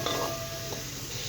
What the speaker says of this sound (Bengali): মশলাটাকে একটু কষিয়ে নিচ্ছি।